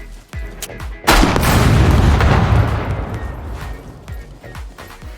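Grenade launcher round in Scum exploding on impact against a brick wall: a few small clicks and thumps, then a sudden loud blast that rumbles and decays over several seconds, followed by light clattering.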